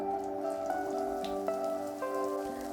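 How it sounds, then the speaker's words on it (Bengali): Cut potatoes dropped into hot mustard oil give a continuous crackling sizzle, dense and steady throughout, heard alongside a constant tonal background hum. "তেল গরম হয়ে গেছে এখন আমি কেটে রাখা আলুগুলো এর মধ্যে দিয়ে দিচ্ছি"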